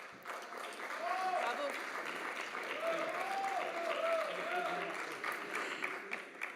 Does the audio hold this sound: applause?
yes